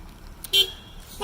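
A bus horn gives one short, bright toot midway through, brief and moderately loud against a quiet background.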